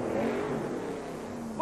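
Monster trucks Gravedigger and Crusher race side by side off the line, engines roaring in a loud, steady drone with a commentator talking over the noise.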